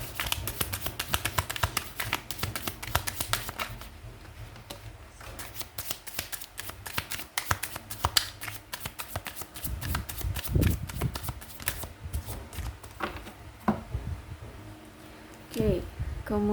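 Tarot cards shuffled by hand during a reading, a steady run of quick papery riffles and taps with a few louder bursts, close and continuous.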